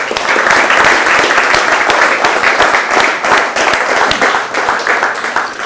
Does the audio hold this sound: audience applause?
yes